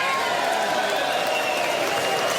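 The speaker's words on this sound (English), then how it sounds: "Almost 2 minutes of applause engulfed the chamber" Sustained applause from a large crowd fills a legislative chamber, a dense, steady wash of clapping with murmuring voices mixed in throughout.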